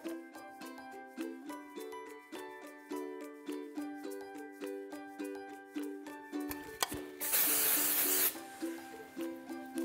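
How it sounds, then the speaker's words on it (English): ORIBE dry texturizing spray hisses onto a hair braid in one close, loud burst lasting about a second, set against steady rhythmic background music. "I'm using the texture spray here just to give that braid a little bit more texture. It's the ORIBE dry texturizing spray."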